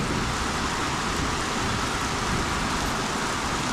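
Steady, heavy rain pours down in a dense continuous hiss, close and loud with no pauses.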